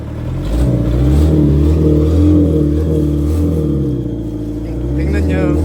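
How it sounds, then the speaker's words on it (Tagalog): An old jeep converted into a small truck revs its engine in a steady, loud mid-range drone that rises and falls over several seconds while people talk over it. "Ito pala ay dating jeep na kinonvert lang na ganito."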